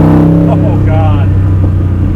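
A loud Corvette Grand Sport V8 engine, a 750 hp Mercury SB4 427, revs up close to 3,500 RPM, its deep throaty tone climbing and holding steady, with a voice partly audible over it.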